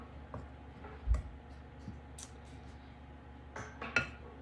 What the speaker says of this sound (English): I'm just gonna mix this all up so that everything is incorporated.